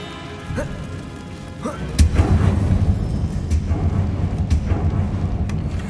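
Incendio fire spell cast in Hogwarts Legacy: a quiet stretch, then a sudden loud burst at about two seconds that gives way to a sustained, deep, rumbling roar with scattered sharp thuds.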